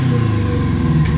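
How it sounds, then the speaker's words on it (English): A carbureted Kawasaki KZ550 motorcycle engine with a hanging idle and carburetion issues revs briefly, its deep, throbbing exhaust note swelling slightly over a rough, uneven idle nearby. "I'll give you guys a little bit more exhaust sound and some revs"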